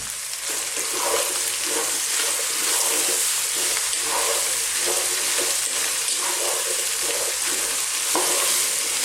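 Carrots with garlic ginger paste, salt and pepper sweating over medium heat in a pan, giving a steady soft sizzle with intermittent stirring scrapes, close up and without speech.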